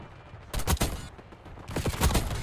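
Rapid gunfire from a sniper-style weapon in Black Ops 6 on the Nuketown map, two dense bursts of sharp, loud shots separated by a brief lull, with no talk over them.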